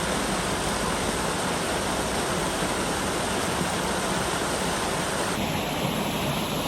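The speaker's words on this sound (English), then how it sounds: "It's just amazing seeing and hearing the water babbling, isn't it, from this crystal clear water that's risen up from the earth." Crystal clear spring water babbling in a stream at Mottisfont, a steady, dense rush of flowing water filling the whole clip without pause, close and continuous with no voices.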